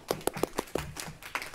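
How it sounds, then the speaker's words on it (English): A short scattered round of hand clapping from a small group at a school district meeting, a few distinct claps spaced apart rather than sustained applause, fairly close. "let's give ourselves all like a nice round of applause"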